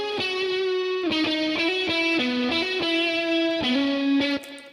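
Electric guitar played through an amp simulator with a chorus effect, a sustained distorted melodic line with shimmering, doubled tone and clear note changes, loud and close, alone without talk.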